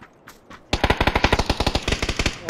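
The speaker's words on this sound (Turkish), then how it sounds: "Alttakiler şu an oraya sıkıyor." Close, loud machine-gun fire in the video game PUBG, following a few faint distant shots: a sustained rapid burst of evenly spaced rounds.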